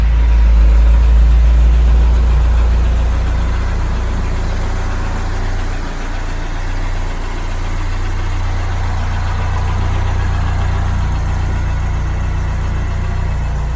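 A Ford Cortina Mk3 engine, rebuilt after fire damage, runs at a steady idle, a loud continuous low rumble that holds even throughout, close by and with no talking.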